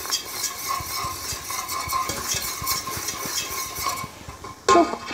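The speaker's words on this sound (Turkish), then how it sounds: "Bir tatlı kaşığı da kırmızı pul biber ekliyorum. Şöyle yine çeviriyorum." A spoon stirs tomato paste with red pepper flakes in a pot for lentil soup, a steady soft scraping with light sizzling and a brief louder clatter near the end.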